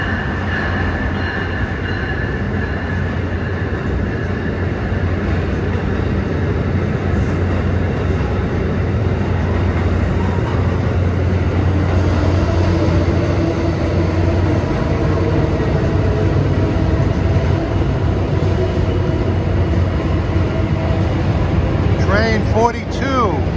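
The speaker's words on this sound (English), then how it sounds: "Here comes a Pennsylvanian from Pittsburgh." Amtrak Pennsylvanian passenger train arriving at Newark Penn Station during evening rush hour, a loud steady rumble and rolling wheel noise that fills the whole stretch, with a brief squeal near the end.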